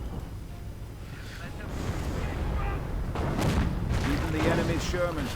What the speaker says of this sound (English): trying to get the anti-tank guns with some high closer rounds from the Hummel